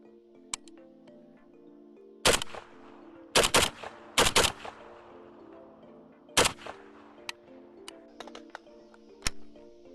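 A ZPAP85 AK rifle loaded with AC Unity AK19 magazines fires at dusk, giving loud sharp shots in quick pairs and short bursts, with quieter clicks and a steady background hum between them.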